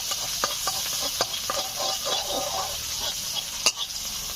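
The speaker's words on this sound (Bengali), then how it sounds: "দেখুন তেলটা খুব গরম হয়ে গেছে। এখন দিয়ে দিচ্ছি পেঁয়াজ কুচি।" Thinly sliced onion fries in very hot oil while being stirred, a hissing sizzle punctuated by several spatula scrapes and taps, close up, with a sharper clack near the end and no speech.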